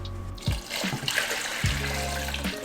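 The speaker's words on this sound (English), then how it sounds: "I'll just go ahead and toss this into a large braising pot and then just fill this up with water." Tap water runs steadily into a large braising pot for octopus birria tacos, a continuous rushing pour with a few brief knocks and splashes, close and fairly loud with no talking.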